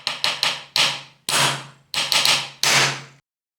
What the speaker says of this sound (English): Breaking a glass with this hammer.